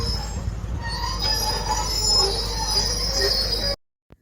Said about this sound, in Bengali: কলকাতা থেকে একমাত্র কাঞ্চনকন্যা আলিপুরদুয়ার অবধি যাচ্ছে, সেই ট্রেনটা এইখান দিয়ে যায়